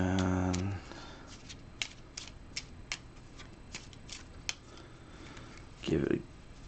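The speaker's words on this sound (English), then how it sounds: "So we're going to shuffle this up." A deck of reward cards from the tabletop card game Aventuria being shuffled by hand, a series of sharp riffling snaps and clicks spaced through the stretch, close and clear, after a brief voice at the start.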